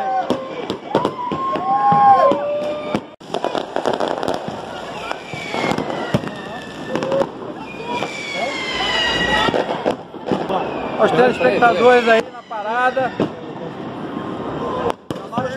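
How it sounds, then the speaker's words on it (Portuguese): Large fireworks mortars (morteiros) exploding in repeated loud booming bursts with crackling and whistling, someone talking excitedly over the blasts. "A nova explosão aí na parada."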